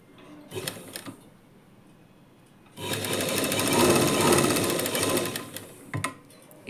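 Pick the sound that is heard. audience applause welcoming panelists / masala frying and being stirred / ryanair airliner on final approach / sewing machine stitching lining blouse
sewing machine stitching lining blouse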